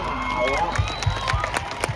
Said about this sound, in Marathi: अरे बापरे टाळ्या टाळ्या टाळ्या